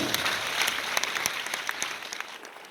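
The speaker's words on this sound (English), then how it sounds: "A big round of applause, ladies and gentlemen." An audience at a judges' comments and results ceremony for a girls' final claps in a dense, steady round of applause that tapers off slightly toward the end.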